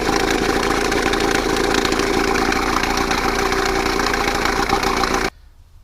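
A Mercury Mark 10 outboard motor idles steadily and loud at close range, a dense continuous engine drone, then cuts off abruptly near the end leaving near silence.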